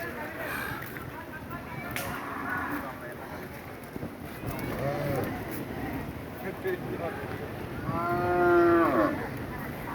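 A cow lets out a long, loud moo near the end over a busy outdoor din of crowd noise and distant voices at a cattle and goat market before Eid sacrifice.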